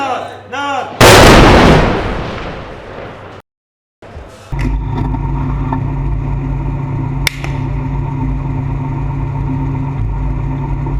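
A powerful tank cannon shot booms and echoes away during urban combat in Jobar, Syria, then a heavy engine drones steadily while a sharp crack sounds partway through.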